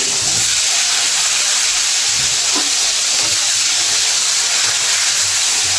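Oil sizzles and hisses steadily as vegetables, including flat beans, fry, a continuous crackling held close by for several seconds with no voices.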